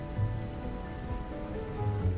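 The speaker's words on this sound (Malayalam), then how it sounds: "ചെറിയ മഴത്തുള്ളികൾ ഇടാൻ തുടങ്ങിയിട്ടുണ്ട്." Light rain begins falling outdoors along a country ride near Kodumbu in Palakkad, Kerala, a soft, steady, even patter of drops with a low background rumble and no voices.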